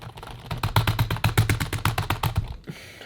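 Steady rapid typing on a DIY kit-built mechanical keyboard, with crisp, evenly spaced clacks close to the microphone that stop abruptly just before the end.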